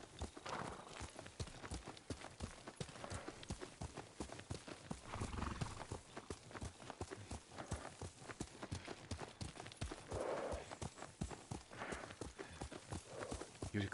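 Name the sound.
horse clip-clop and whinny in the video game Ghost of Tsushima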